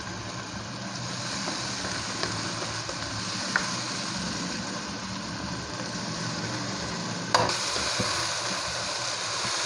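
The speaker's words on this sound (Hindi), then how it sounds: "अच्छी तरह से मिक्स करेंगे।" Minced meat mixture being stirred and fried in a hot pan for Peshawari fry keema, with a steady loud sizzle throughout and occasional scrape and clink of a spoon against the pan.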